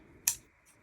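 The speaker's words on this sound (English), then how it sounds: "So I'll just trim this off" A single sharp snip of scissors trimming excess string on a small DIY snowman ornament, close and quiet, followed by a fainter second click.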